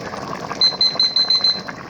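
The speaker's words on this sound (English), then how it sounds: "that's not the Foodi, it's my other timer here" A kitchen timer beeps six times in a quick, evenly spaced run of high, thin tones, clear over a faint room background.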